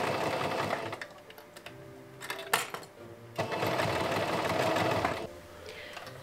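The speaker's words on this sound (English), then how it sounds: "Then I attach the flounces to the edges and sew them." Sewing machine stitching fabric flounces onto curved edges for a cosplay costume, a close, steady mechanical whirr that runs in a few bursts with brief slowdowns between them.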